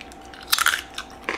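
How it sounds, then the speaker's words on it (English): Crunchy crackers made from sesame, quinoa, flax and amaranth seeds are bitten and chewed close up, a few brittle cracking crunches followed by softer chewing and one more crisp bite, with no talking. "Our special blend of sesame, quinoa, flax, and amaranth seeds is what gives our crackers a good crunch"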